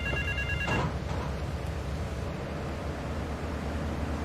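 A telephone rings in the video game Grand Theft Auto 3, a brief electronic ring burst near the start followed by a steady hiss of background noise.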